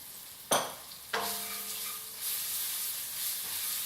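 Zatar, curry leaves and garlic hit hot oil for a Middle Eastern cauliflower dish, with two sharp bursts of spitting sizzle that settle into a loud, continuous close-up fry.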